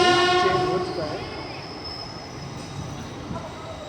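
The Kakinada Port Express passes on an Indian railway line, its horn blaring loudly at the start and fading into a rumble of wheels and carriages that rolls on steadily, with no talking.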